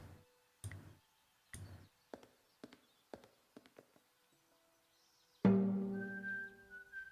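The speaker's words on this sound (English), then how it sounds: "hammer on the oil drum." A single hammer blow on an oil drum in the Broken Sword 5: The Serpent's Curse video game rings out as a loud metallic clang with a sustained resonant ring, following a series of soft, sparse clicking footsteps.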